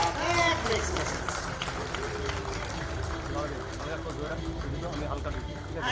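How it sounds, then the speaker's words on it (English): Applause from an audience at a felicitation ceremony for the BCCI president at Eden Gardens, a steady crowd clapping under an announcer's voice and background chatter throughout. "can we have a round of, slightly louder round of applause?"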